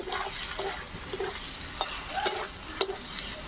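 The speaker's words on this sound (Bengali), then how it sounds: "আর একটু নাড়াচাড়া করে নেব" Potato and paneer curry is stirred in a pan with a steady sizzle, and a spoon scrapes and knocks against the metal at close range.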